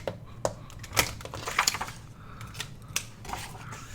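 Scissors trim the top and bottom of a vellum or book-page paper pocket, a series of crisp snipping cuts arriving in quick irregular bursts, close and fairly quiet.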